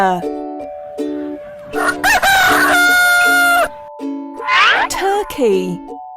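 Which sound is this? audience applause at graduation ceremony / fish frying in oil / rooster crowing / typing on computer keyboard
rooster crowing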